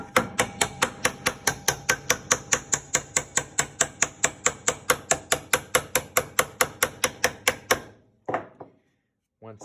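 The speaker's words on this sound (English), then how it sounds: "still maintain a certain amount of pressure pushing down while you're nailing" A nail gun drives nails through studs into a wall frame, firing a long run of sharp, evenly spaced cracks at a quick, steady pace, then two isolated shots before quiet.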